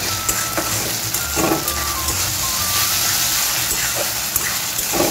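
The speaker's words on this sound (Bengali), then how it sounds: "এবার আমি আদা রসুনের পেস্টটা দিয়ে দিচ্ছি আদা রসুনের কাঁচা গন্ধটা না দেওয়া অবধি ফ্রাই করে নিতে হবে" Ginger-garlic paste sizzles steadily in hot oil in a pan, with a continuous close hiss and a few soft stirring scrapes throughout.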